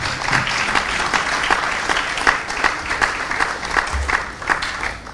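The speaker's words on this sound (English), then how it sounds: "I think you can clap." Steady audience applause fills a business presentation hall, loud and continuous clapping from a crowd with no speech over it.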